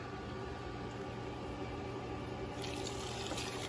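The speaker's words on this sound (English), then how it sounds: "Just had to rinse the feet off real quick" Water runs steadily from a tap or hose at a pool enclosure as feet are rinsed off, a continuous close splashing wash with a slight surge in flow near the end and no talking.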